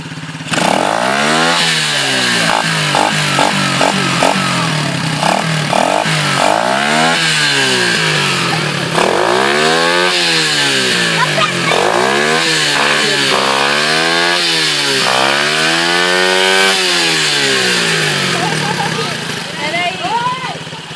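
A motorcycle engine revs repeatedly in rising and falling swells, loud and close, with talk over it throughout.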